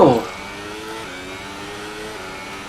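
An F1 car engine in the racing game F1 2018 hums at a steady mid pitch after a brief loud burst at the start, holding an even drone throughout with no talk over it.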